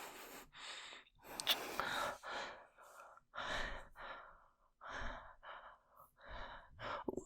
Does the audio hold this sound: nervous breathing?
yes